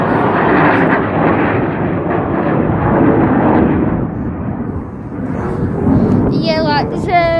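Loud, broadband roar of an aircraft flying overhead near an RAF site at Tattershall Castle, swelling and sustained for several seconds with wind buffeting, and a faint voice briefly at the end.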